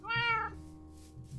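A cat in the video game Minecraft gives a single clear, drawn-out meow near the start, followed by quieter game ambience.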